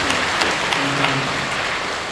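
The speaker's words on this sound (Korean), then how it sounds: "다시 한번 우리 박수로" A congregation applauds during a church worship service, a steady wash of clapping that stays even and fairly loud throughout, with no talking.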